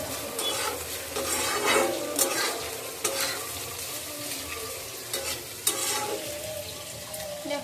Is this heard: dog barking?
no